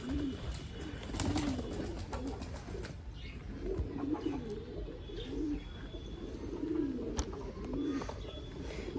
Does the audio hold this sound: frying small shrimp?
no